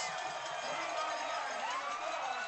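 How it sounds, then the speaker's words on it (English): Crowd cheering and shouting after a touchdown at a high school football game between Chowchilla and St. Mary, a steady, sustained roar of distant voices filling the stands without a break. "the crowd is on their feet and very ecstatic"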